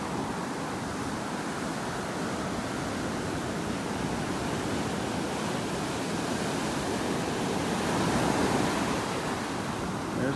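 Foamy ocean surf breaks continuously on a beach in North Naples, Florida, making a dense, loud, steady wash of hissing water that swells slightly toward the end, with no voices.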